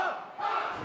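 A wrestler lets out a loud, sustained scream at a roaring crowd during a New Japan Pro-Wrestling Tamashii event in Sydney, Australia, the yell and the arena noise blending for just under a second.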